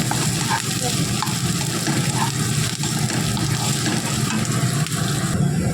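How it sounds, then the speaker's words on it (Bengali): Onion fries in a pan, a steady, close, busy sizzle with faint stirring scrapes, continuous and without talk. "পেঁয়াজটা ভাজা হচ্ছে"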